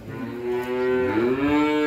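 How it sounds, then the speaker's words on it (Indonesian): A young bull calf of a large cattle breed on a farm gives one loud, close, drawn-out moo that rises and swells through two seconds, with no talk. "Calon sapi ini jumbo."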